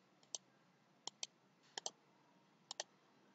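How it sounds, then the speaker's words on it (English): Sharp mouse clicks sound at a computer in quiet room tone, coming singly and in quick pairs, close and crisp. "click load button."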